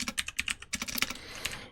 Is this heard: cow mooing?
no